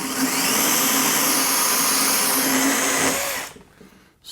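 A chainsaw cuts through a log for rustic log furniture, a loud, steady high-pitched buzz for about three seconds before the engine drops off and the cut ends, with no talking.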